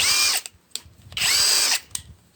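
A Procraft PWA36 cordless impact wrench whirs in two loud, close bursts of roughly half a second each, separated by short clicks and quiet pauses.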